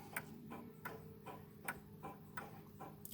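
Antique Victorian clock with its original gut cable, ticking in a crisp, even rhythm of about two beats per second, close and fairly quiet against a faint background hum.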